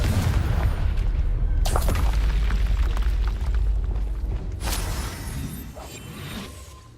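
A Confringo fire spell from the Hogwarts Legacy video game blasts in a sustained, booming roar with two sharp crackling bursts, loud and close.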